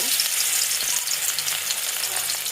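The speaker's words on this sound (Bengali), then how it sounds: "তেলটা গরম হয়ে গেছে এখন আমি মাংসগুলো একটু ভেজে নিব" Chicken pieces fry in hot oil in a home kitchen, giving a loud, steady sizzle and crackle that runs unbroken from start to finish with no voices.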